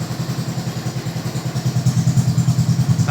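A Suzuki Burgman 125 scooter fitted with a sport exhaust idles steadily nearby, its low, even exhaust pulses thumping in a regular rhythm and growing slightly louder toward the end.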